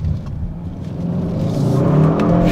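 A 2022 Kia K5 GT engine revs up while holding a gear, a loud close rumble with a whirring tone that climbs steadily in pitch and volume.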